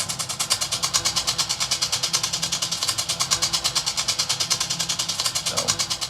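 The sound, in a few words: cello flutter bow percussive rhythm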